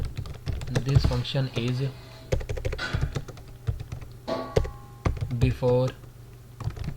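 Rapid clusters of keystrokes on a computer keyboard as C code is typed, close and crisp, coming in bursts between stretches of someone speaking.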